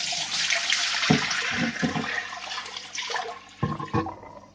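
Water from a blue neon tetra spawning tank, an aquarium, is poured out in one motion, a steady rushing gush with a few splashes and gurgles as the flow tapers.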